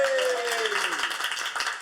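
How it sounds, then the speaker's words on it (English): A small audience at a talkaoke gathering gives a brief, dense round of clapping, with a fading tone gliding downward over the start of the applause. "give it a round of applause"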